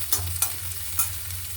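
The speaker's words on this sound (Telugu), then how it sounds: "ఈ ఉల్లిపాయలు వేడుతున్నాను" Onions fry in a hot pan with a low steady sizzle, broken by a few short scraping stirs.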